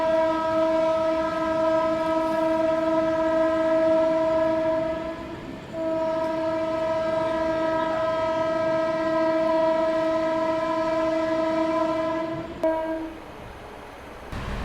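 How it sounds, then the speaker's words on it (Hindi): Amrit Bharat Express train arriving at Govindpuri station, Kanpur, its loud sustained horn blaring steadily for several seconds with a brief dip midway before cutting off over rumbling rail noise. "तो यहाँ गोविंदपुरी में अपनी ट्रेन का अराइवल हो रहा है"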